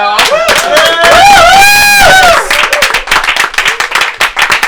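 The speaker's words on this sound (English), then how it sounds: "Give her a round of applause!" A comedy club crowd at Shakers on Clark claps for comedian Trashy Tina, loud and close, with a sustained whooping shout riding over the applause midway before the clapping resumes in scattered bursts.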